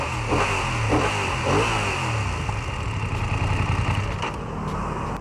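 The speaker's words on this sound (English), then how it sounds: "you can start the bike by pressing this button" A 2021 BMW F900R motorcycle with keyless ignition fires up and settles into a steady mid-pitched engine rumble with light clatter, close and fairly loud throughout.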